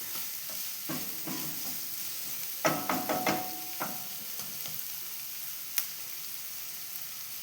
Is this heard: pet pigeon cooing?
no